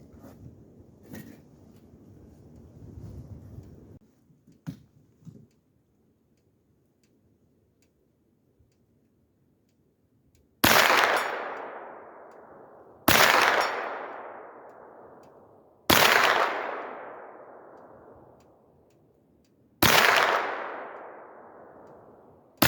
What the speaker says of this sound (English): And I'm shooting it with this Sergeant Major Munition from Tula Works.